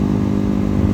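Megelli 250r motorcycle engine cruising uphill at a steady, moderate throttle, a close, continuous low-pitched drone with a slightly rough, pulsing texture that holds even throughout.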